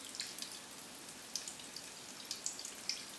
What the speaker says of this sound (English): I just want to let this bubble here in the neck